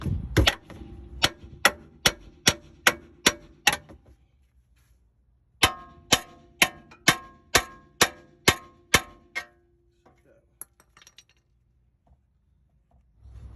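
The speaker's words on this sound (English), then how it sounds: "Take you a hammer. Go ahead and beat against the knuckle." Sharp metallic hammer blows against a 2008 Honda Accord steering knuckle ring out in two quick, steady runs of about eight strikes each, separated by a short pause, close and loud.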